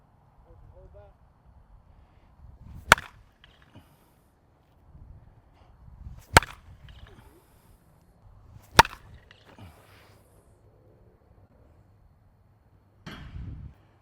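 Demarini Kingpin senior slowpitch softball bat striking a softball, four sharp, loud metallic cracks spaced a few seconds apart, with low outdoor rumble and murmured voices between hits.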